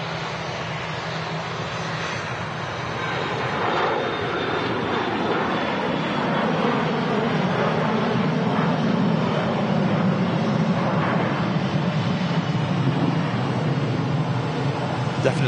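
A Brussels Airlines Airbus A320 jet taxiing at Manchester Airport, a steady whining engine hum with a broad rumble, moderately close and unbroken throughout.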